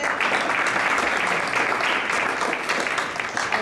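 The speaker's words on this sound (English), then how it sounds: "one more round of applause for proactive students." An audience at a university business school innovation contest gives a steady, full round of applause that carries on evenly throughout.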